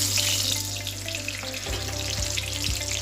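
Bay leaf and whole garam masala spices fry in hot oil, giving a steady, close crackling sizzle with a few light stirring knocks, no voices.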